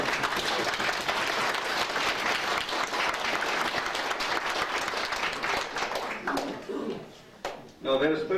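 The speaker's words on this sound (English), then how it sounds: "And we should give these people a round of applause." An audience at a 50th wedding anniversary celebration gives a sustained round of applause, dense steady clapping that thins out and fades near the end.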